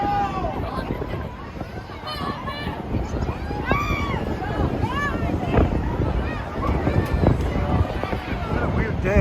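Strong wind gusts at Cedar Point amusement park blow over a lively crowd, with steady babble of voices, shrieks and bustle throughout.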